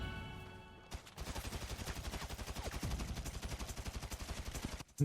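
Rapid bursts of gunfire from GTA V roleplay gameplay, sustained automatic-style shots in a steady rhythm after a brief quiet lead-in, loud and close with no talk.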